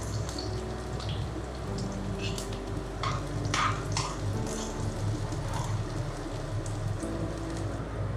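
Garlic, green chili and capsicum frying in hot oil, giving a fine crackling spatter like rain on a surface, with occasional louder pops and utensil clinks, close and moderately quiet.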